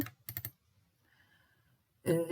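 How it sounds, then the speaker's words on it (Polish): A computer mouse gives a quick pair of sharp clicks at the start, close and distinct, followed by a short quiet gap and then a voice speaking. "wybieramy myszką dany punkt, klikamy dwa razy"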